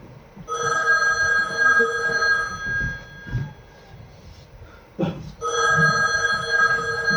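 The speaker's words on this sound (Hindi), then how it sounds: "उठाइए फोन उठाइए।" A telephone rings on stage during a theatre play with a bright electronic trill in two long bursts separated by a short gap, with some low background noise between.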